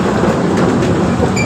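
An amusement park train at Fantasy Kingdom pulls into its station with a loud, continuous, close-up rumble and rattle of running wheels, steady throughout the brief moment, with no one talking.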